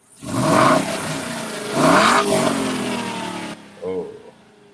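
A car engine, just repaired after an oxygen sensor fault, revs up loudly twice in close succession and then settles to a lower idle, with a brief voice near the end.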